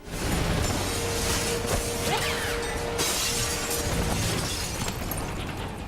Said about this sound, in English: all the glass broke in the same timing as a helicopter strafing across